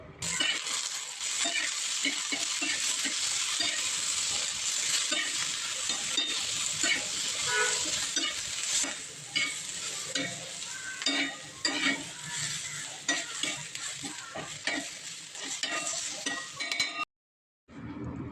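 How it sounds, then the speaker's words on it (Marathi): Steady sizzling as a spice paste with chopped onion and tomato is stirred and sautéed in a hot pan, continuous and close, with occasional scraping strokes and no talking. "तव्यामध्ये चिरलेला कांदा टोमॅटो टाकून घ्यायचा आणि चांगलं आता हे वाटणना मस्त परतवून घ्यायचं"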